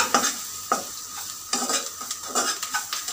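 A spoon stirs shrimp with salt in a frying pan, giving repeated scraping strokes at an irregular rhythm over a soft steady sizzle, close and fairly quiet, with no voices.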